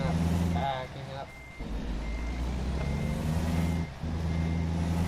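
A heavy truck with a modded engine reverses in American Truck Simulator, its backup alarm beeping in a steady repeating pattern over a low engine hum, with a voice briefly speaking over it.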